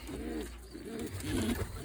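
Young pigeons in a loft coo in three short, soft, rolling bursts with brief gaps, close by against quiet loft background.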